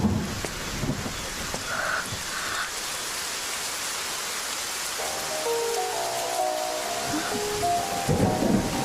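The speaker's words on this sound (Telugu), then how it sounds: "వర్షం పడింది" Steady rain hisses loudly throughout, with deep rumbles of thunder underneath and faint tonal sounds in the background.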